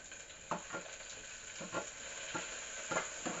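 Onions frying in hot oil for tomato rice, a steady sizzle with a handful of stirring scrapes and clatters spaced through it, close and fairly quiet.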